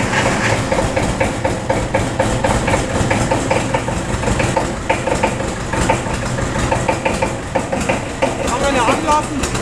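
Kramer K/KA vintage tractor diesel engine running, a loud steady rapid chugging idle close by, with a voice talking over it.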